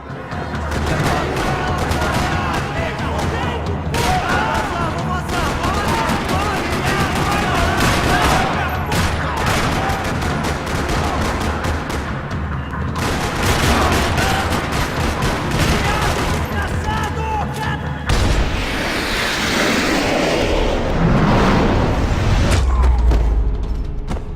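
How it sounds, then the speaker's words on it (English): Gunfire rattles through a parking lot in the video game Max Payne 3, a dense, continuous stream of shots and bursts layered with game music and effects, loud throughout. "Another parking lot rattling with gunfire."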